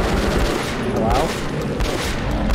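A shotgun firing in Metro Last Light: several loud, close blasts in quick succession over a rough, noisy background.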